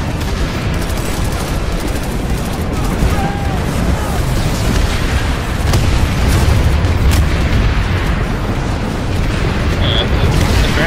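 Grenade blasts and heavy gunfire fill a huge 240-versus-240 video game battle, a dense, continuous roar of booms and rattling shots, loud and close throughout.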